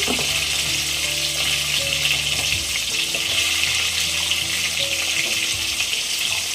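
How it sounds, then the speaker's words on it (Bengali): Potatoes fry in hot oil for a mutton kosha, giving a steady, close, dense sizzle that holds evenly throughout with faint low background hum and no talk. "এবার আমি ভেজে নেব"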